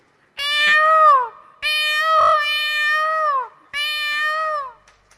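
A human voice imitates a peacock with three loud, drawn-out wailing cries that fall in pitch, each separated by a brief gap.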